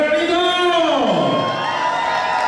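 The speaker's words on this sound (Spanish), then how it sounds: "Fuerte el aplauso para los" Audience at a banda concert in Chicago cheering and applauding, a loud, sustained crowd roar with whoops and shouts, while a voice through the PA falls in pitch over it.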